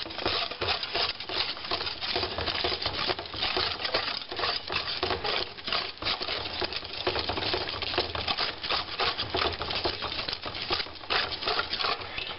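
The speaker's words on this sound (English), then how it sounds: "So now we're going to whisk this in." Whisk rattling rapidly against a pan while stirring chicken bouillon and sage into a pot pie sauce, a steady dense clatter of fast scraping taps that runs the whole time with no pauses.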